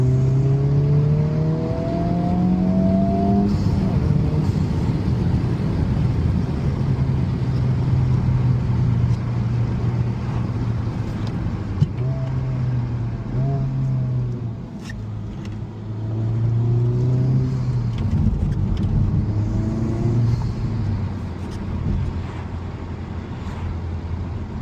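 A Honda Civic Type R FL5 engine breathing through a PRL intake, revving and pulling steadily from inside the car, rising and falling in pitch through several climbs, loud and continuous without talk.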